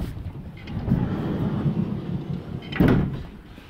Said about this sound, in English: As you can see, it has a sliding door.